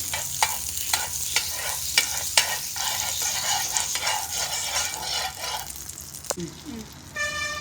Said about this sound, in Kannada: ಇವಾಗ ಆಗಲೇ ರೆಡಿ ಮಾಡಿಟ್ಕೊಂಡಂತಹ ವೆಜಿಟೇಬಲ್ ಟಿಕ್ಕಿಯನ್ನು ಫ್ರೈ ಮಾಡ್ತಾ ಇದ್ದೇನೆ